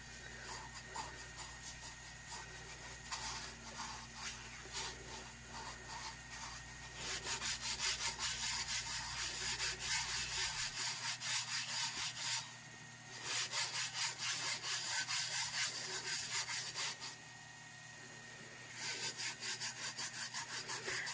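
A vinyl decal is rubbed onto a pale pink tack, producing steady scratchy friction in long continuous stretches with brief pauses between them, close and quiet over a low background hum, with no voices.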